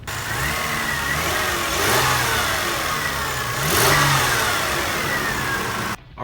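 A 1997 Subaru Legacy wagon with 210,000 miles and a lit check-engine light runs in a salvage yard, its engine idling loudly and revving up twice, with the swells clearly audible and close.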